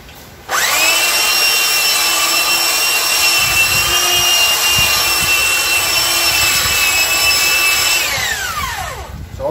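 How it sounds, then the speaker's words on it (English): A motorized tool runs during a quick, light sanding of a wooden sign, starting abruptly into a loud, steady whine with a gritty rasp beneath, then spinning down near the end. "I'm going to just give it a little quick light sanding"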